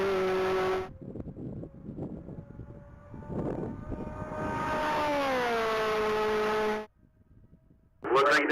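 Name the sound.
2024 Chevrolet Corvette Z06 on a top-speed race track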